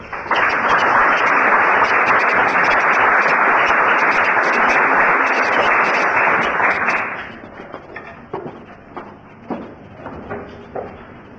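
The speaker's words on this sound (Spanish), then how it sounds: "Lo recibimos con un fuerte aplauso." A lecture audience applauds to welcome the speaker before his talk on addictions as a challenge to psychology. Loud, dense clapping from many hands holds steady for about seven seconds, then thins out into a few scattered, fading claps.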